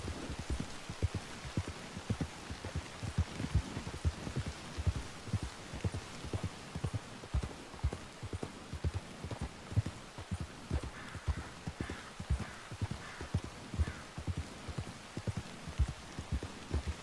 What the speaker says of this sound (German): Schöner Platzregen.